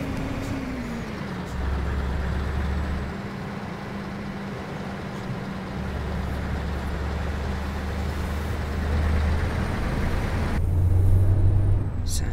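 A steady, high-pitched engine whine from a new Scania T truck in Euro Truck Simulator 2 drones over a low engine rumble, rising slightly toward the end, with faint traffic and no talking.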